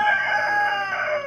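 Backyard hens on a small family farm during a heat wave, giving a steady, close, drawn-out vocal call with no talking.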